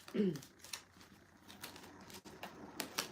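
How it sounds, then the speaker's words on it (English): Oracle cards are shuffled by hand, giving a quick flurry of riffling and papery flicks followed by softer intermittent card taps and rustles, fairly close and quiet. "Give me a chance to shuffle them first"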